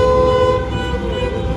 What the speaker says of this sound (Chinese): 好多人在摁喇叭庆祝，是因为土耳其选举。